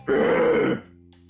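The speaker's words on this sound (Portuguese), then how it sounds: "Dei um pigarro" One short, gravelly throat clearing up close, a rough guttural rasp lasting under a second, then near silence.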